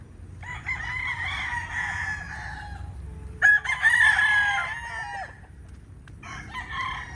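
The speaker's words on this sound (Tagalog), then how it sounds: "Putik-putik yung mga manok natin dito." Chickens and a rooster on a rain-soaked farm, several loud, near crows rising and falling one after another, with clucking between them and a low steady background rumble.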